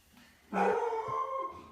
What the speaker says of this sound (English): can you deal with that dog?